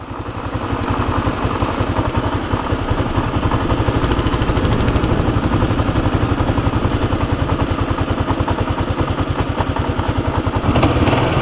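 A motorcycle engine runs steadily and loudly up close as the rider lets out the clutch and adds a little throttle, a rapid, even thrum that holds through to a brief change near the end, with no talk.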